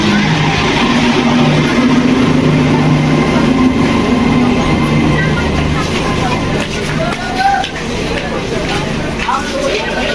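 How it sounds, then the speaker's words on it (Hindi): Train pulling into a Kolkata station, a steady loud rumble of railcars and rail noise with a low hum throughout, busy platform babble and voices mixed in. "तो बर्तमान ट्रेन लगे स्टेशन रे"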